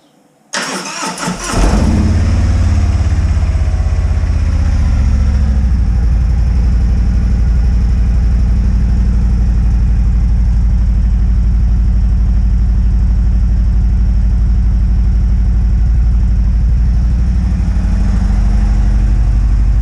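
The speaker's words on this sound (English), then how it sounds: "let's start it up and see what she sounds like. This is a full cold start" A 2017 Harley-Davidson Street Glide fitted with Vance & Hines Power Duals exhausts cranks and fires on a cold start, then settles into a loud, deep, steady idle rumble close to the microphone.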